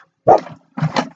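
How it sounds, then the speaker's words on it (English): Dog barking excitedly at a squirrel, two loud close woofs in quick succession. "Oh, now she's woofing."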